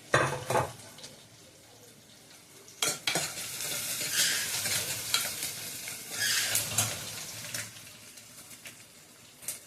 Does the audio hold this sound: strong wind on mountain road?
no